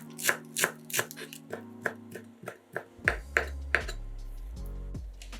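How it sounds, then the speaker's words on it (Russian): A knife chopping a bunch of dill and green onions on a board, a series of crisp, close, rhythmic cuts, some quick and some spaced, with no talking. "Пучок укропа и зеленого лука нарезаем небольшими кусочками."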